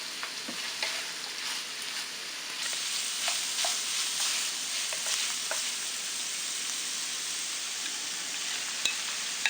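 Sausage meat fries in a pan for a Thai spring roll filling, giving a steady, close sizzle with occasional stirring scrapes and pops throughout.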